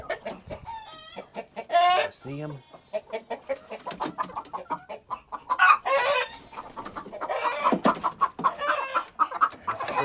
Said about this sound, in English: I see some chickens on the nest up in there.